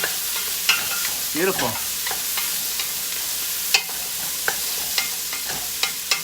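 Onions frying in a pan and being stirred, steady sizzle throughout with scraping stir strokes and a few sharp clinks of the utensil; a short spoken remark is heard over it.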